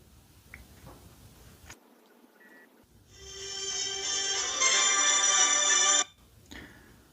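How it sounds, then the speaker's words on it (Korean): An LG smartphone rings with its default ringtone on an incoming call, a loud and steady bright melodic tone that lasts about three seconds before stopping abruptly, with quiet room background around it. "기본 벨소리로 설정이 되어 있거든요"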